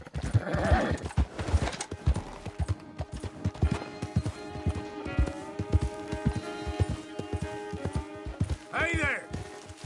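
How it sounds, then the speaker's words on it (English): Horse hooves clip-clop in a steady, fast rhythm in the video game Red Dead Redemption II, over busy game ambience, and a single loud whinny rings out near the end. "That's a fine horse you got there."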